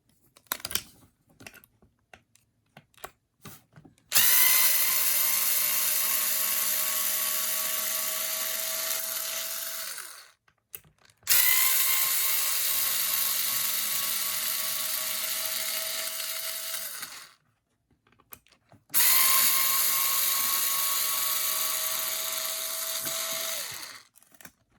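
An electric screwdriver whirring as it backs three screws out of an HPI Racing RS4 Sport 3 RC car, three long, loud, steady runs, each a few seconds long, separated by short pauses with small handling clicks.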